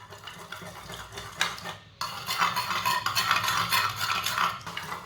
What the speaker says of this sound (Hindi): फेंट लेंगे अंडों को।